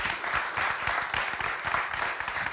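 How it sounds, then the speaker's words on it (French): An audience applauds at a French live broadcast, with dense, continuous clapping of moderate loudness and no voices over it. "On peut vous applaudir pour vos témoignages passionnants."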